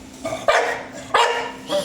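A chow chow dog gives two sharp, close barks with short gaps between them, loud and clear with little else around.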